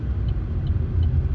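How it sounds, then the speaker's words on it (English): A bin lorry's deep engine rumble passes close by, heavy and continuous with low throbbing through the whole moment. "let this bin lorry through"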